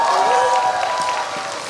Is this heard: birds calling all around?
no